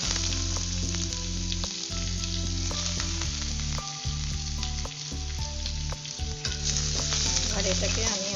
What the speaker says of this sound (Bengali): আর এটাকে আমি অল্প ভেজে নিচ্ছি।